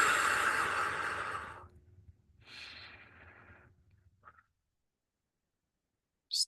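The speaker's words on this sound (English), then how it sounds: "we're breathing out on hopelessness 6 times. Big breaths out, please." A group breathing out hard together during a guided breathing session: a long, loud exhale, a pause, then a second softer breath out and a short puff, followed by silence and a brief sharp sound at the end.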